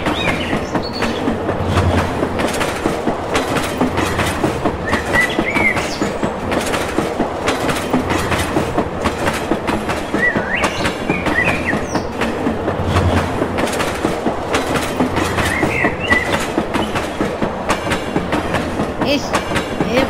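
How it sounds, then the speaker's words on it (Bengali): A cartoon train rolls past in a steady rumbling clatter, wheels clicking rhythmically on the rails, loud and continuous with no speech over it. "ওই তো একটা ট্রেন আসছে"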